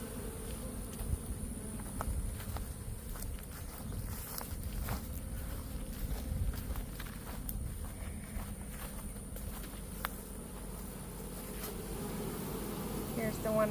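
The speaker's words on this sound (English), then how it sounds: "She's building an even bigger curtain of bees." Honey bees buzz steadily around a hive fitted with a pollen trap, a dense close swarm hum with scattered faint knocks and rustles running through the whole stretch.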